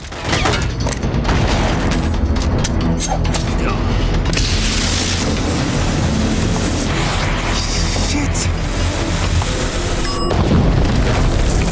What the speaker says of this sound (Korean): 순식간에 날아오는 총알.